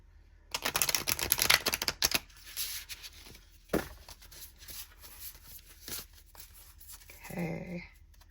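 A deck of oracle cards being shuffled by hand, first a fast flurry of riffling snaps close to the mic, then scattered slides and taps as the cards are handled, and a brief murmur near the end.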